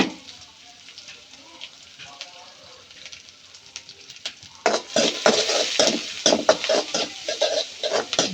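Onions go into a hot clay pan where fenugreek seeds are already darkening, and a louder sizzle and clatter erupts about halfway through. It keeps going with rhythmic stirring scrapes under a quieter first stretch.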